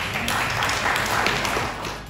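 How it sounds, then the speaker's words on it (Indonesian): Applause fills a city council plenary session of the Malang regional assembly: a roomful of people clapping in a dense, even wash that stays steady, with no talking on top. "Tepuk tangan untuk kita semuanya."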